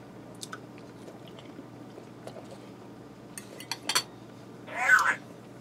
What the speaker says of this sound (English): Let me try them potatoes.